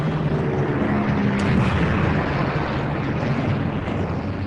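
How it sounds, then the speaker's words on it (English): Propeller-driven warplanes droning overhead during the Japanese attack on the naval base at Pearl Harbor, a continuous loud rumbling engine roar with no breaks and no voices. "over 300 Japanese warplanes bombed and torpedoed the base at Pearl Harbor"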